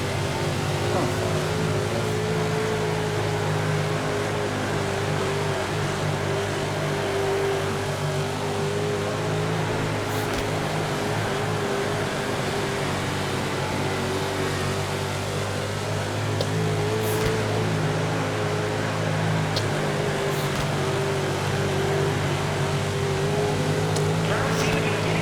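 Continuous drone of 305 sprint car engines in the video game World of Outlaws 24, steady and loud throughout, with occasional faint clicks and a voice speaking briefly.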